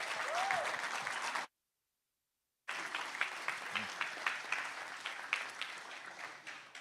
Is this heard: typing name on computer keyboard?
no